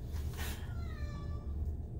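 A single drawn-out cat meow rises and falls nearby, heard alone against a low background rumble.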